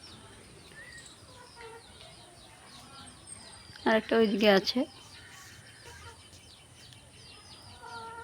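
Four newly bought chickens cluck and chirp faintly around a yard, with a louder burst of squawking midway, while a person speaks briefly.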